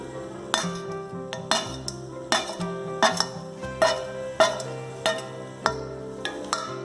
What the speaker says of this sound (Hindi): थोड़ा सा इसको चला लेंगे।